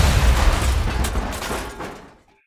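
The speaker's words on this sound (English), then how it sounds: "a loud explosion and rumble shakes the inn" A loud explosion and deep rumble shaking an inn, heard as a heavy, close, continuous low roar with crackling bursts that gradually fades away to silence after about two seconds.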